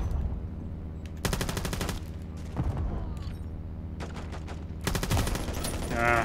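Rapid automatic gunfire from the Ram-7 rifle in Call of Duty Modern Warfare 3, loud close bursts with gaps between volleys and distant shots underneath.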